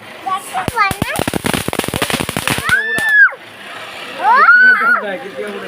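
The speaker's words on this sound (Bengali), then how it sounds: "বাজি ফুটিয়ে শেষ করলাম" Firecrackers bursting on Lakshmi Puja day: a rapid, loud string of sharp cracks and pops, followed by whistling rockets rising and fading, with voices heard among the blasts.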